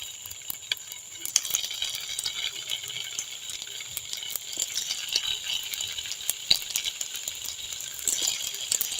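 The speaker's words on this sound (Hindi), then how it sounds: "तो अब इसमें कबाब फ्राई कर लेते हैं।" Eggplant vegetable kebabs shallow frying in hot oil in a pan, a steady bright sizzle with scattered pops and crackles running throughout, fairly close and with no voices over it.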